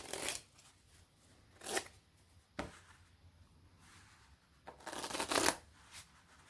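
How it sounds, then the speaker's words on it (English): Deck of playing cards being shuffled in several quick riffling bursts separated by short pauses, crisp and close, with no voices. "Give the cards a shuffle."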